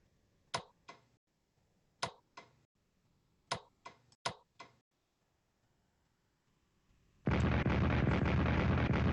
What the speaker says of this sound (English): Oh, defensive artillery